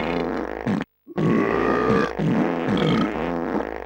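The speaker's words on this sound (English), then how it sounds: "apparently you can burp and fart during the low times" Cartoonish burping and farting from Crash Tag Team Racing, loud, comic grunting blasts in quick succession with a brief silent gap near the start.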